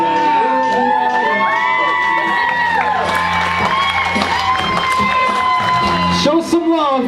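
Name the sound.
wedding guests clapping and cheering for the newlyweds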